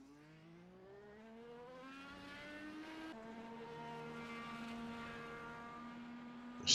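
An Indycar engine in an iRacing simulation at Motegi, a lone car whose steady, rising high-pitched whine climbs through the gears, with one shift partway through and no voices.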